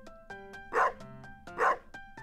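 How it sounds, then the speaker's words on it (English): A dog barks in modded Stardew Valley: two loud, close barks stand out amid short yips and plinking game sounds, with no talking. "you see this dog here?"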